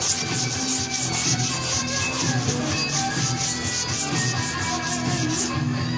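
Steady, continuous abrasive rubbing of sanding through a guide coat on a 1958 Chevrolet body panel, close and fairly loud, with faint music underneath and no talking.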